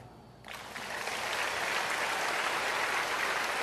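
A church congregation claps together as a first step in a healing service, starting faintly and then swelling into steady, dense applause that fills the room and continues without talk.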